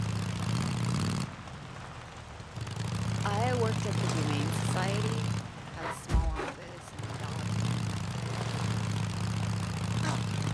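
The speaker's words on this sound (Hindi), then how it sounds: "जब बाइक की आवाज आ रही है तो पहले ही साइड हट जा" A motorbike engine from the zombie survival video game Days Gone drones steadily in the foreground, breaking off twice for a few seconds, while someone talks over it.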